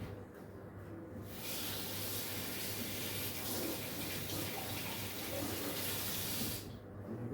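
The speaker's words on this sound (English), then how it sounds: "just going to wash my paintbrush a second" Tap water runs steadily while a paintbrush is rinsed during scale model kit painting, a close, even rushing hiss lasting several seconds, starting and stopping abruptly, with no talking.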